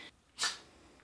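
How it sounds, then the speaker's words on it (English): A child lets out one short, sharp sneeze, close and quiet, with faint breathing before and after. "Sneezing?"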